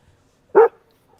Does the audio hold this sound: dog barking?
yes